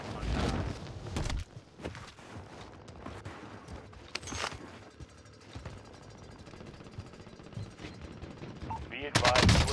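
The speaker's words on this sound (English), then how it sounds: "Hostile fire!" Gunfire in Call of Duty Warzone on Rebirth Island, with sharp bursts of shots scattered through a busy game mix, a loud volley at the start and another near the end, with broadband impacts between.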